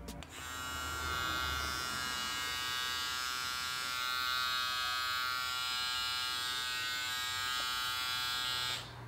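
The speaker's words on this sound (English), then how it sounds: "will do a sound check right now so I can show you guys. So this is gonna be the Rebel trimmer." A Stylecraft Rebel hair trimmer runs on its own with a steady, close, high-pitched electric buzz that holds level for about eight seconds after switching on, then stops.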